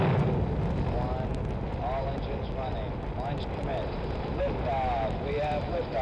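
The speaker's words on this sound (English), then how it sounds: "All engines running. Launch commit. Lift off." An Apollo 15 Saturn V rocket lifts off, its engines making a continuous heavy roar full of low rumble that holds steady throughout, with a voice heard faintly beneath it.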